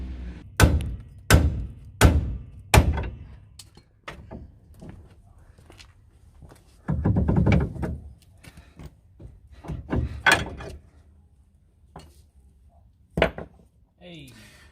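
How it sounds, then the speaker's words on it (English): Several sharp metallic hammer blows on a stuck shock absorber bolt ring out in a quick cluster, followed by scattered knocks and clunks, with a few more hard strikes near the end. "Definitely get a big old hammer and go mad."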